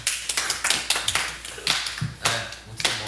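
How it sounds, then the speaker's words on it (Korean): A handful of people clap in bursts of sharp, close hand claps, uneven in rhythm and spread over a few seconds, with no speech. "박수 한번 쳐."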